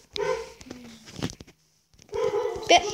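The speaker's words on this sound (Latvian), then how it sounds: "Piedodiet, ka suns tur rei." Dog barking in the background while a Minecraft mobile game is played, a few sharp barks mixed with children talking nearby.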